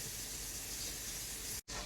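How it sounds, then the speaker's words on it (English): Tuna sizzles steadily in a hot pan, a dense continuous crackling hiss with a brief dropout near the end. "So you want to hear that lovely sizzle."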